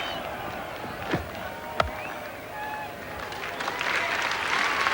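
A crowd at a 1980 New Zealand versus Australia cricket match applauds a batsman's well-played fifty, a broad wash of clapping that swells toward the end, with a commentator's voice over it.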